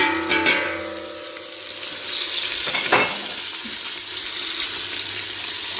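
Onions sizzle and fry in a pan with tomato paste and spices. The sizzle is steady and close, with stirring scrapes and a brief burst near the middle, and no talk.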